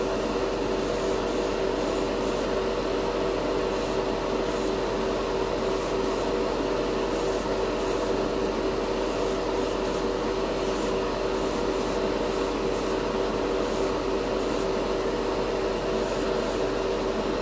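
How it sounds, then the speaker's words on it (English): Airbrush spraying MODO metallic paint onto a Gundam model piece, a steady hissing spray running throughout with a constant compressor hum and brief repeated bursts of the spray. "Very, very fine spray. It atomizes really nice. Great airbrush too."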